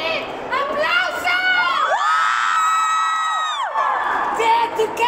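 A cinema audience at a concert film screening cheers loudly, with high excited shouts and whoops rising and falling together in a sustained burst.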